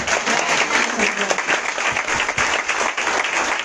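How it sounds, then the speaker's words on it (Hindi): Congregation at a Sunday worship service in a church clapping loudly and steadily, a dense continuous wash of many hands filling the space, with faint voices mixed underneath. "जोर से ताली बजा।"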